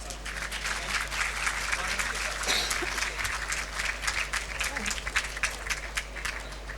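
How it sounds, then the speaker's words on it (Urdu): An audience at a naat conference claps for a guest, a steady, moderately loud wash of many hands filling the hall, with a low hum and some voice underneath. "ان کے لیے میں کہوں گا کہ تالیاں بجا دیجیے"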